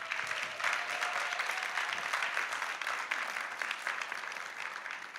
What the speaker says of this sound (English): So you can applaud them.